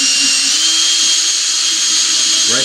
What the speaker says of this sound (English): drill right through there.